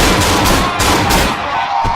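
Rapid gunfire from a recoiling weapon in the horror game Cry of Fear: a dense, loud burst of repeated shots that carries through two seconds and fades slightly near the end.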